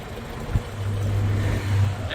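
A small, very rusty Daihatsu car engine idles, then revs up into a steady droning hum that rises briefly and settles, close by with no talking.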